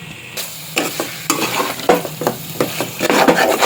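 Chicken curry with ginger paste is stirred in a pot, a spoon scraping the bottom in repeated bursts over a steady close sizzle, with no voices.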